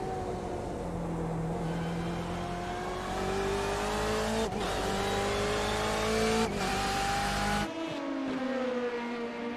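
On-board engine of a BMW sports car racing at Watkins Glen in a racing video game, a steady loud drone with rising pitch as it accelerates, brief dips at gear shifts, then a sharp drop and lower tone near the end.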